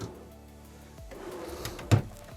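Cabinet drawers aboard a 2026 Targa 27.2 outboard boat are worked in the galley storage. A steady sliding rumble runs for about a second, then a sharp knock comes as a drawer shuts. No one speaks.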